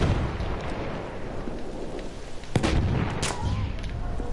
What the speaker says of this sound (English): Okay, they're shooting over there.